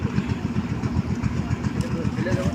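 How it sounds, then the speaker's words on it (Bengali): A motor boat arriving to ferry people across a river, its engine chugging in a steady, loud, close low rhythm for the whole stretch. "এই যে নৌকা চলে আসছে"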